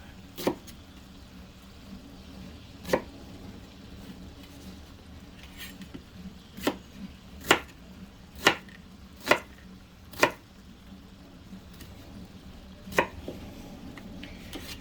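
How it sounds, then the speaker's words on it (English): Half an onion is chopped into pieces on a cutting board while cooking off grid: about nine sharp, separate knife thuds at an uneven pace, close and fairly quiet, over a faint background hum with no talk. "I'm going to cut the half onion in half, and then I'm just going to take it down in pieces like this."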